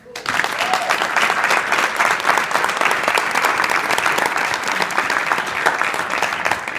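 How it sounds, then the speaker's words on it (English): Audience applause at a Carnegie Mellon University global campus graduation reception fills the room, steady and dense clapping from many hands sustained throughout, loud and close. "First round of applause for your endeavors."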